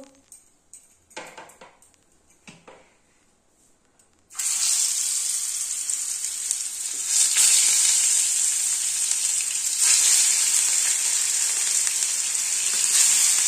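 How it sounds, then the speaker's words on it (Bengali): Pieces of bhola fish drop into hot mustard oil in a kadai and burst into a loud, steady sizzle that holds strong and continuous after a few quiet clatters beforehand. "আমার তেলটা গরম হয়ে গেছে। এবারে আমি মাছ কাটাকে দিয়ে দেবো।"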